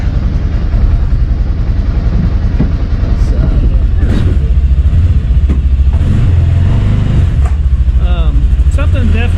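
Arctic Cat side-by-side in the snow, its engine revving loud and close with a surging, slipping drone from a worn belt or failing clutch, steady rumble throughout with a voice talking over it.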